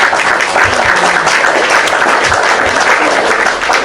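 An audience at a religious debate claps in a loud, dense burst of applause that stays steady and close for a few seconds.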